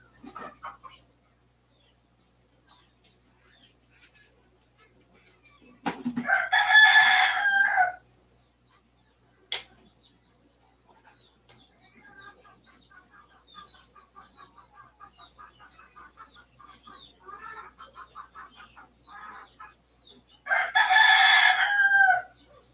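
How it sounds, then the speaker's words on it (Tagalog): Red roosters crow loudly twice, far apart, with softer clucking and chicken chatter filling the quiet stretches between. "Ingay din yung mga manok na pula ko eh."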